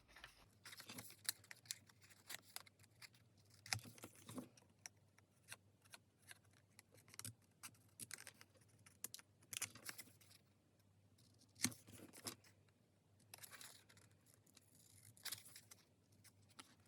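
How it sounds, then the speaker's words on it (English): Scissors snipping through card while trimming a handmade church wreath Christmas card, many faint close cuts in irregular bursts with short pauses between them. "just cut into a corner like this, and then take out the strip."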